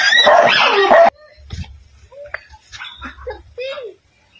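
A dog barks loudly and repeatedly for about a second, followed by quieter scattered yips and whimpers with some background noise.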